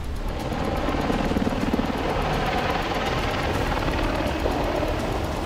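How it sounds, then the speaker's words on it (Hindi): An AH-64 Apache attack helicopter drones steadily, its dense rotor chop and engine roar holding at an even, fairly loud level with no voices. "नाम है AH-64 अपाचे अटैक हेलीकॉप्टर।"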